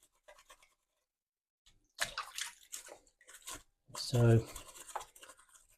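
A brush scrubs the crevices of a Pinter 3 brewing unit in short, scratchy bursts with pauses between them. Brief talk is heard along with the scrubbing.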